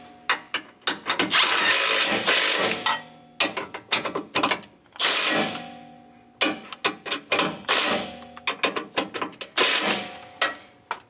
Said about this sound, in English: So when you snug it up, you need an extension on your impact.